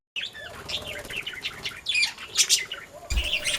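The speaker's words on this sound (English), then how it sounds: "Today we're in our walk-in bird cage to visit our budgies" Budgies in a walk-in bird cage, with a close chorus of chirps, squawks and twittering calls and a brief burst of flapping wings near the end.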